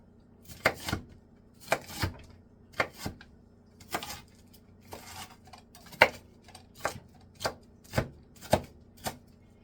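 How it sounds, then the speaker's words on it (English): A knife chops a bell pepper on a cutting board in crisp, evenly spaced strokes, about fifteen close, sharp taps with quiet pauses between them and no talking. "And then you're going to just take a knife and cut it in smaller pieces."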